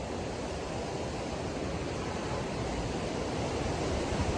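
River water rushes under a bridge with a loud, continuous broadband roar, steady throughout, with no voices over it.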